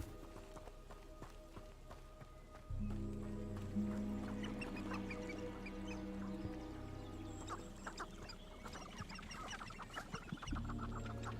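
Chicken clucking in the video game Hogwarts Legacy, repeated short clucks over a steady low game ambience and background music, moderately loud throughout.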